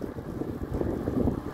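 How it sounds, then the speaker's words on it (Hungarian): Wind buffets the microphone outdoors on a breezy day, a steady low rumbling roar that runs through the whole moment. "na jó, egy pici szél van"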